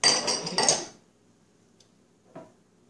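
Ingredients for homemade pet treats being stirred in a bowl, a busy rattle of a utensil clinking and scraping against the dish for about a second, then quiet with a lone later tap.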